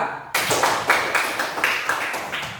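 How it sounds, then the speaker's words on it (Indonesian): A classroom of students claps for a group, starting abruptly and continuing as a close, even rattle of many hands. "Beri aplaus kepada kelompok 2"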